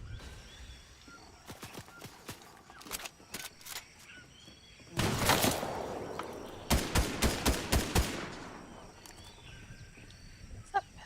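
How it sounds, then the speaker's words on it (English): Gunfire in the Fortnite Chapter 3 Season 4 Paradise battle royale: scattered shots early, then a loud dense burst of rapid fire followed by a string of evenly spaced single shots, with faint in-game ambience between. "Where's that person shooting from then?"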